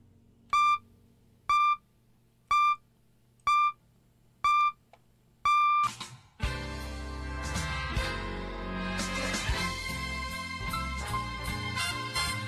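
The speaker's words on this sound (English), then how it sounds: "here comes the beeps to the top of the hour" BBC World Service time signal marking the top of the hour: six evenly spaced short pure-tone pips one second apart, the last one longer, followed at once by broadcast music.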